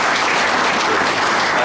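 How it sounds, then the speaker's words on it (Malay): A church congregation gives a round of applause at an anniversary service, loud dense clapping filling the whole moment with no speech over it. "Tepuk tangan bagi dia,"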